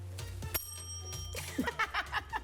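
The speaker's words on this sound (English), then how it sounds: "Somebody take that bell from Elijah." A small bell rings faintly in a room, struck once and then jingled in several quick, light rings over about two seconds with no talk.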